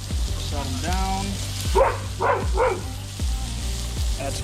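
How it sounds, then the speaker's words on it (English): A dog barks in the background, three quick barks in a row plus a softer one later, over the steady sizzle of wild-game burgers frying on a griddle. "That's my dog barking."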